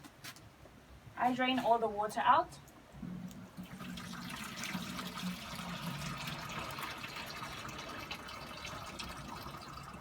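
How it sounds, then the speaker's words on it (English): A voice speaks briefly, then water pours and drains steadily from a pot, a soft continuous splashing rush that carries on to the end. "then I drain all the water out"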